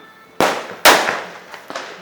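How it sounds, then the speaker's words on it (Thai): Firecrackers go off in a village during Hmong New Year celebrations: two loud, sharp nearby bangs followed by fainter pops and crackling, each burst decaying quickly. "บรรยากาศที่นี่ก็จะเต็มไปด้วยเสียงประทัด ดังกึกก้องในหมู่บ้าน"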